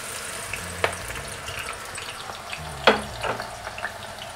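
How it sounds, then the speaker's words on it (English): Spring onions dropped into hot oil sizzle with a moderate crackle, punctuated by a couple of sharp spits and a low hum underneath while cooking Chee Cheong Fun. "now is the time to drop in the spring onions"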